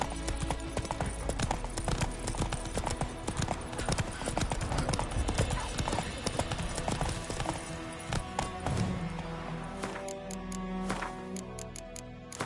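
Roach, a horse in The Witcher 3, galloping with rapid rhythmic hoofbeats thudding close and steady, while a voice speaks briefly over the pounding.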